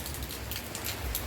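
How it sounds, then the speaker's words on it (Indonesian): Rain falls on orchids outdoors, a steady, dense patter of drops with a few sharper splashes over the brief stretch. "Tapi ini hujannya udah mulai gede lagi nih."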